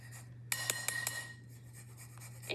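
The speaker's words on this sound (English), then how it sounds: "So I'm going to grate about a tablespoon." Fresh ginger is rubbed across a grater in a quick run of four or five rasping strokes, close and fairly quiet, over a low steady background hum.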